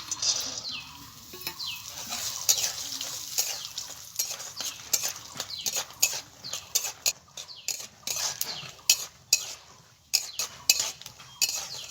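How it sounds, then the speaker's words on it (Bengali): Peanuts fry in mustard oil in a wok, with a soft sizzle beneath frequent clinks and scrapes of a utensil stirring against the metal. "প্রথমে আমি কিছু বাদাম ভেজে নিচ্ছি"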